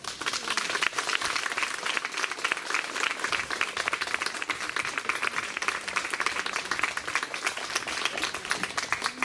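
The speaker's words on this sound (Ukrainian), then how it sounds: "Під ваші оплески." Steady, dense applause from a large audience at a festival opening, continuous and even throughout with no pauses or voices.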